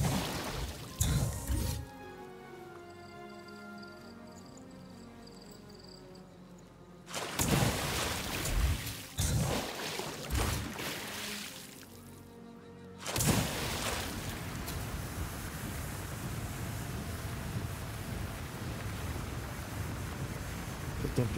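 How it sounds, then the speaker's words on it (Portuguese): Water in the video game Outcast A New Beginning, played on PS5: a steady broadband wash of flowing or surging water that fills the latter part of the scene, after stretches of louder game sounds and music. "esse efeito de água aqui"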